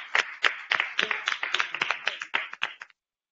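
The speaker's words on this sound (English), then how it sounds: "Let's give them a big round of applause." A short burst of close, crisp clapping from a small group at a school board meeting, quick uneven claps for about three seconds before stopping abruptly.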